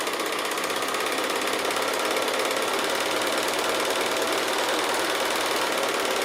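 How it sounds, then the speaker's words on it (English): Sewing machine stitching long strips of quilting fabric while the machine feeds the fabric through by itself, a loud, fast, even mechanical chatter running without a break. "I'm going to sew now, and I'm just going to let the machine feed itself through"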